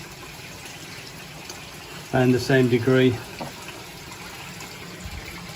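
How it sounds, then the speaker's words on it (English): Water slowly trickles into a koi pond, a steady faint wash running throughout with someone talking briefly over it. "So in the pond now, just slowly add a bit of water"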